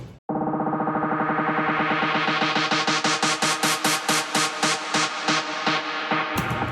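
A very short sample loop in an electronic dance remix, with its loop end opened up so the stuttering repeats grow longer and seem to slow down, heard loud and alone for several seconds.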